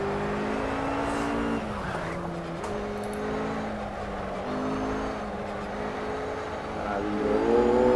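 Porsche GT3 engine in the Project Cars racing game, a steady high-revving race-car drone that steps up and down through gear changes, brief tire squeal, then climbs again under hard acceleration near the end.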